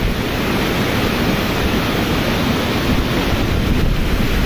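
Loud, dense rushing stream water roars without a break, a broad wash of sound mixed with wind buffeting the microphone, at Harishchandragad, Maharashtra.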